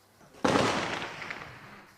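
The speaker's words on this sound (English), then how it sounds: "They still live with the gunfire, but now it's outgoing." A single sharp report of outgoing gunfire from an army defensive position in a war-damaged residential area, loud and close, followed by a long rolling echo that fades over more than a second.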